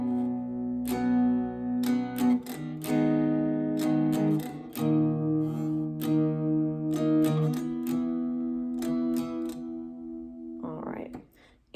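A steel-string acoustic guitar plays the strumming pattern for the first verse of a song, a steady, rhythmic run of down and up strums over changing chords, played up close.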